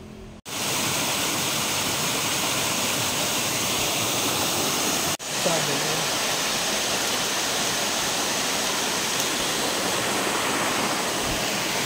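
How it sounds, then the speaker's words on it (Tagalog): Steady, dense roar of falling water fills the whole clip, broadband and constant, with a brief dropout near the start and another around five seconds. "Yung waterfalls po niya nandito sa baba."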